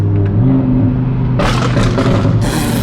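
Audi R8 with a flame-tuned exhaust: a deep idling rumble, then a loud rev with crackling burbles and pops, heard close up.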